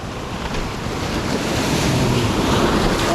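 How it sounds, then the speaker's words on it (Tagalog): Waves break and wash onto a lake shore in a loud, swelling roar of surf mixed with heavy wind noise on the microphone, with no talking. "Di malaking alon. Atras tayo."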